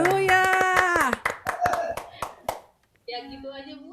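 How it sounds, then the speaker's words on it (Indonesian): Scattered hand claps from a small congregation at an online New Year's Eve church service, applauding in praise of God: a brief run of sharp, separate claps tapering off after a sustained sung or played tone, then a short silence and another steady tone. "Mari sekali lagi beri tepuk tangan bagi Tuhan kita"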